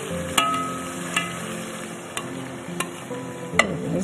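Chicken pieces sizzle and fry in a pot while a utensil stirs them, with a steady hiss under a few sharp scraping clanks spread across the moment.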